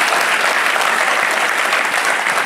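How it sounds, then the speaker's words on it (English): Audience at a business leaders summit applauding, a dense, steady wash of clapping from a large crowd that holds at full strength throughout. "sorry guys, you've got to clap"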